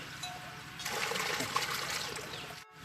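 Water from a garden hose spraying vegetable beds, a steady splashing rush that swells and holds, then cuts off briefly near the end, heard close outdoors.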